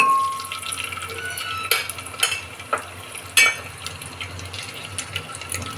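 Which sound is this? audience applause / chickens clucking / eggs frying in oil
eggs frying in oil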